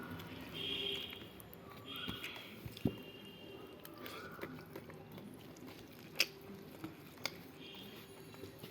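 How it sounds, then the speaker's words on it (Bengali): Soft chewing and squishy bites while eating dry-cooked soybean curry with rice, close but faint, with occasional small clicks and wet smacks and a quiet voice in the background. "এবারে এই যে সোয়াবিন দিয়ে খাচ্ছি"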